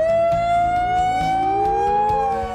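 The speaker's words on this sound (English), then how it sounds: "The major emergency alarm is a wailing siren that sounds like this." A site's major emergency alarm sounds as a loud, continuous wailing siren, its pitch sweeping steadily upward and lingering, with layered overtones and a low background rumble.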